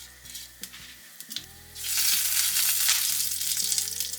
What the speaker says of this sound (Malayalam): കടുക് പൊട്ടി വരുമ്പോൾ ഇതിലേക്ക് 1/2 ടീസ്പൂൺ ജീരകം ഇടാം.